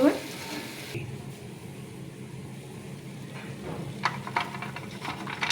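Boondi, small droplets of gram-flour batter, frying in hot oil for a Janmashtami sweet, giving a steady soft sizzle with a brief stir and a few light clinks of a ladle near the end.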